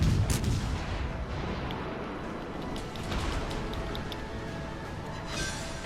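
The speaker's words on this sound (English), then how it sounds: "after I fire at this guy one more time" Big naval guns of the battleship USS Oklahoma fire in World of Warships Legends, a heavy booming salvo up front followed by a dense, rumbling din of battle that holds loud and steady throughout.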